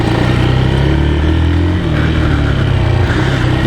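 A 2007 Honda FTR 223 single-cylinder motorcycle runs close by, a loud, steady, throbbing engine note with a slight dip partway through and no voices over it.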